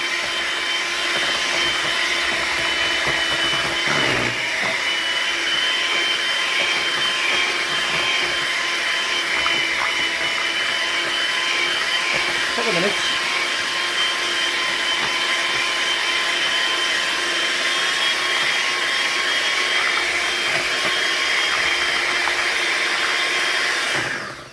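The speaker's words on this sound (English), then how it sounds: "Gonna give that a good mix up now." Electric hand mixer whirring steadily through cheesecake filling in a home kitchen, a loud continuous motor drone that holds for the whole stretch without a break.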